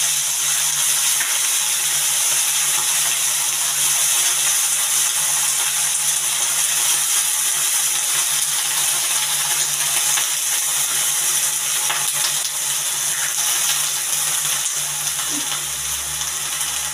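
Sliced potatoes and brinjal, first soaked in salted water, sizzle in a pan with a steady close hiss that holds throughout, and a faint clink of a utensil comes near the end.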